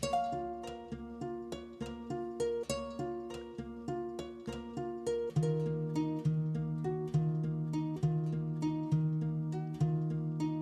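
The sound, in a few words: ethnic guitar loop with halftime effect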